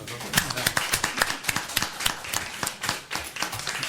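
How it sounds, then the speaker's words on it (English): A small group at a port district board of commissioners meeting claps for the staff, giving sparse, distinct individual claps in an uneven patter that stays fairly close, with a voice speaking over the clapping. "I think they deserve a round of applause."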